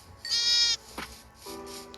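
A Minecraft sheep bleats loudly in a single drawn-out, wavering call, then a second, lower bleat follows after a short gap, with a synthetic game-like tone.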